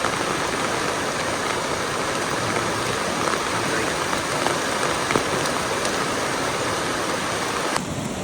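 Steady rain falls in the Philippines, a dense, loud, even hiss of drops on surfaces that continues without a break.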